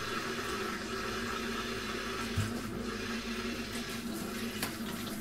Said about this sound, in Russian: Давайте открою кран, который на улице.